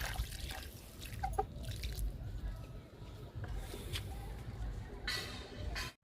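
Liquid fertilizer is poured onto a potted plant in a garden, giving soft splashing, squishing drips and trickles onto soil, fairly quiet and close, with a few brief louder splashes.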